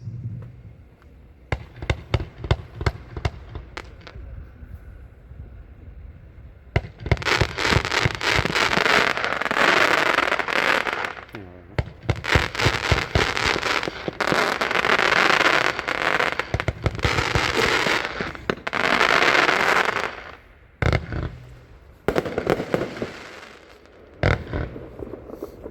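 Pyro Planet's Voltor, a 46-shot firework cake, launches a long barrage of loud booming shots and dense crackle that builds into near-continuous roaring volleys before trailing off with scattered pops.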